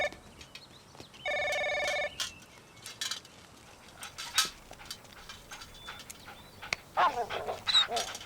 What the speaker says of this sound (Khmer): ឆ្កែពីរក្បាលនេះចិញ្ចឹមនៅទីនេះហេឈ្មោះអី មួយក្បាលឈ្មោះស្ដេចក្រហម